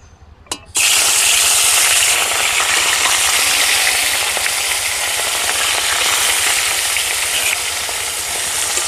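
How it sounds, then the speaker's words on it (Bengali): Small sarpunti fish hit hot oil in a wok after a brief clatter, bursting into a loud, close, continuous sizzle that holds steady to the end with faint stirring scrapes and no voices. "তেল গরম হয়ে গেছে, এবার মাছগুলোকে ভেজে নেব।"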